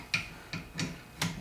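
A ratchet wrench works on the front brake caliper of a 2004 Honda Civic, four crisp mechanical clicks at uneven intervals, close and fairly quiet.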